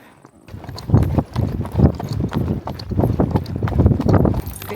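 Horses' hooves clip-clop steadily on a trail during an endurance training ride, a brisk repeated rhythm of hoofbeats close by, carrying on throughout without talk.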